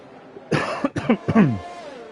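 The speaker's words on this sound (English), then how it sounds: "Clear my throat." A single close throat-clearing cough, a rough burst followed by a couple of harsh, voiced rasps, then quiet.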